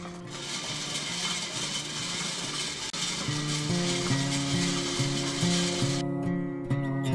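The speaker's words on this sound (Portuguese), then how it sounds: "Agora é fogo baixo e não parar de mexer a panela" A steady sizzling, rustling hiss of coffee beans roasting in a pan over low heat, stirred constantly, runs throughout, with soft background music playing underneath.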